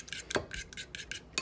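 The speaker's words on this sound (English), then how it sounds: "And we're just going to give it a good stir." A utensil scrapes and clinks against a pan while stirring melting butter for garlic parmesan wings, giving a quick series of close, soft rhythmic strokes.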